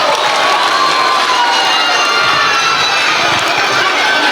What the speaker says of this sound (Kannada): ಒಂದು ಜೋರಾಗಿ ಚಪ್ಪಾಳೆಯೊಂದಿಗೆ